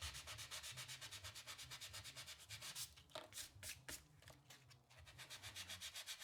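A small sanding block rubs back and forth across a paper craft sympathy card in quick, even scratchy strokes, close and alone, with a brief pause midway.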